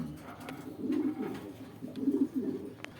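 Beauty breed pigeons at a sale coo softly in two short rolling bursts, close by with faint background clicks.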